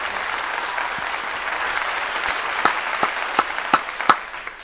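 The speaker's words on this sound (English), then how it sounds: "Clap it up for that one" A crowd claps steadily, the applause thinning out near the end into a few sharp, isolated claps.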